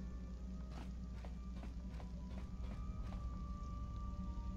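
Soft, regularly spaced footsteps from behind the player character in the Star Wars game Knights of the Old Republic, a steady patter of about eight steps over continuous background game ambience and music.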